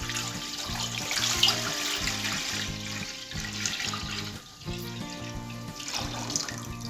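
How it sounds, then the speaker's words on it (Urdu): Tap water pours steadily into a pot for boiling rice, a continuous splashing rush that briefly dips before resuming, with music playing underneath and no talking. "پانی ہم نے اتنا ہی ایڈ کرنا ہے جس میں چاول اچھے سے بوائل ہو جائے۔"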